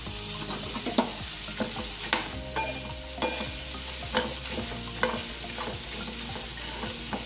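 Fried peanuts and sesame seeds are stirred in a seasoning pan with a soft steady sizzle, while regular scraping strokes of a spoon knock against the pan about once a second.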